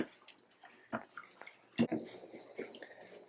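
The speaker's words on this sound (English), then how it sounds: "I'm going to put a little bit of regular fuel in it, slosh it around." Fresh fuel sloshing inside the tank of a Stihl MS310 chainsaw that will not start after storage: a few faint, irregular liquid splashes and drips, close by, with no talk.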